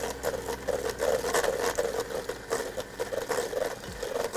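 An electric mixer whirs steadily through banana pudding batter, a close mechanical drone with a rapid, pulsing rhythm and no voices over it.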